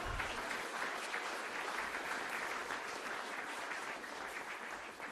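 An audience at a National Party gathering breaks into steady, continuous applause, with a dense patter of clapping that stays even throughout and no talk over it.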